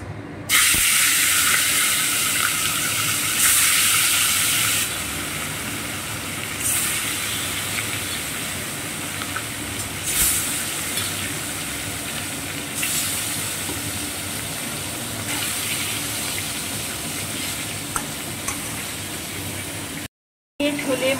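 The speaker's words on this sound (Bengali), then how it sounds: "মাছগুলো এবার আমি ভেজে নিব।" Pieces of rohu fish frying in hot oil in a wok, giving a loud, steady, close hiss of sizzling that swells and eases in waves with no one speaking.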